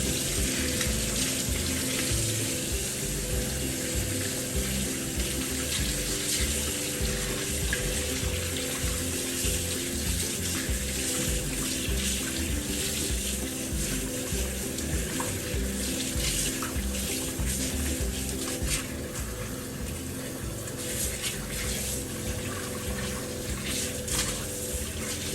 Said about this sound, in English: Run water over the lid.